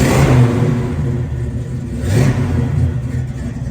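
A 1967 Chevrolet Chevelle engine revs up loud and close, swelling at the start, easing back, then climbing again in a second throttle blip over a deep, steady rumble.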